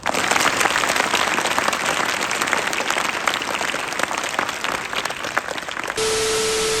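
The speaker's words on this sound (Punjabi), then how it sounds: "ਇੱਕ ਵਾਰ ਜ਼ੋਰਦਾਰ ਤਾੜੀ ਮਾਰ ਕੇ" An audience applauds at an outdoor nukkad natak street play, giving loud, dense, continuous clapping that blurs into a broad wash of noise and then cuts to a steady electronic tone at the end.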